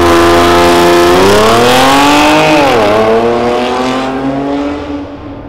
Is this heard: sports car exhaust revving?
yes